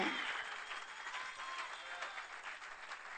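Audience applause at an evangelical crusade service for Jesus, a steady, fairly faint wash of clapping that carries evenly through the moment.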